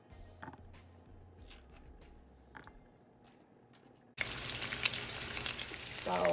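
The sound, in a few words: bell peppers sizzling in pan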